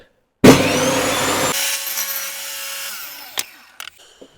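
A table saw spins up and cuts wood for chopsticks, a loud close rasping roar that settles into a steady motor hum, then winds down with a few light knocks at the end.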